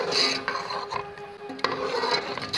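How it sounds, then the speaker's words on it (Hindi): A spoon scrapes and stirs through chicken nihari as a flour mixture is added bit by bit, producing rough rasping strokes and clinks against the pot, close and continuous. "थोड़ा थोड़ा डालते जाएंगे और इसको चम्मच चलाते जाएंगे"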